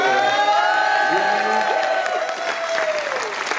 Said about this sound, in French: Applaudissements du public d'Anderlecht.